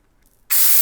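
A CO2 inflator canister suddenly releases gas into a tubeless road bike tyre, a loud, close, steady hiss that starts abruptly after brief quiet and continues unbroken.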